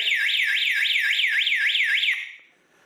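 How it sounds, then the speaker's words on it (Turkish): A shrill electronic security alarm siren from an Ajax alarm system warbles up and down in a rapid repeating sweep, loud and close, then cuts off and fades. "Alarmımızı kurduk. Kameralı prodedektörüne görebildiğiniz zaman alarm çaldı."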